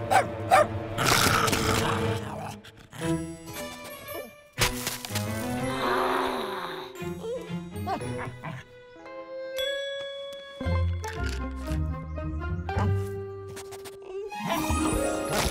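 A cartoon dog barks a few times amid a busy animated soundtrack of chimes, tinkling effects and musical tones, with short gaps of silence between bursts.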